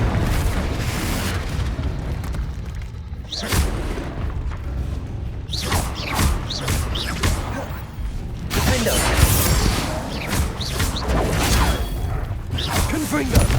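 Fiery Confringo spell blasts in the Hogwarts Legacy video game, booming bursts and crackling impacts repeating through dense combat noise, with shouted voices and other spell effects layered over a loud, continuous battle soundscape.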